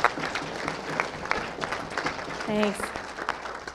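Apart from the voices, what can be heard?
audience applause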